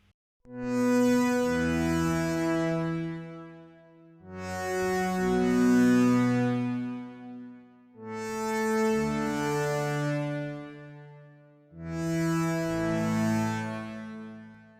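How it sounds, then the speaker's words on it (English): Layered chorus synths, one copy pitch-shifted, swell in four long sustained chords in a slow progression, each note blooming and fading, fairly quiet with no voices. "I layered multiple copies of those chorus synths together, and even used a bit of pitch shifting on one of them"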